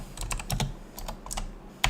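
Keys on a computer keyboard clatter in quick, irregular bursts of taps, close and moderately quiet, with one sharper keystroke near the end and no talk.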